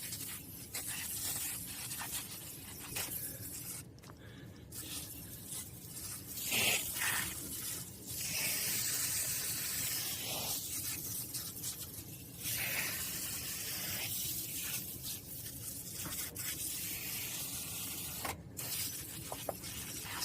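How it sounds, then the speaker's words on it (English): Foaming citrus cleaner sprayed onto air conditioner coils, a steady close hissing spray that runs for stretches with brief pauses and small scraping handling noises in between. "we have our spray in our hand, and we're gonna spray the coils,"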